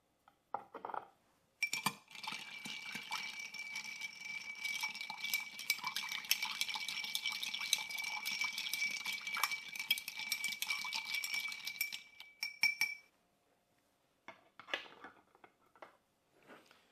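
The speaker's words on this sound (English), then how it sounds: "Add just a little bit of ice. Cool it off a little bit." Ice clinks and rattles steadily in a glass while a Oaxacan carajillo old fashioned with tequila and mezcal is stirred, a fairly quiet, continuous jingling that lasts about ten seconds and then stops, followed by a few faint clinks.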